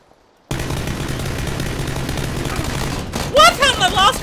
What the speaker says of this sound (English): There's about to be gunfire in there like fucking hell.